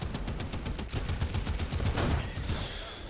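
In the War Thunder video game, machine guns and a coaxial .50 cal fire in rapid sustained bursts, a dense loud rattle of overlapping shots that stops abruptly near the end.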